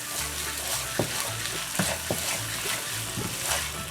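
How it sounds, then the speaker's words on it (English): Yellow mustard is stirred into a sizzling sloppy joe mixture of ground meat in a pan, with a steady frying hiss and several sharp spoon knocks and scrapes close by. "Mix that in really nice and good there."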